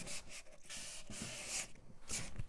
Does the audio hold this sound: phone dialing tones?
no